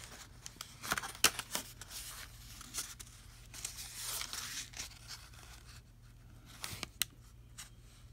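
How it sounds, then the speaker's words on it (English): Paper cardstock is folded in half by hand, giving soft crinkling, scraping and sharp creasing snaps in short irregular bursts, close and quiet, with no talking. "So I'm going to fold the card in half."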